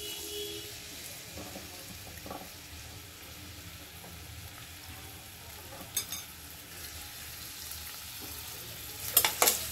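Onions frying in a pan for chital fish curry make a quiet, steady sizzle close by, with a few faint utensil clinks and a sharper scrape near the end.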